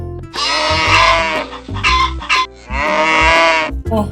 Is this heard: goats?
yes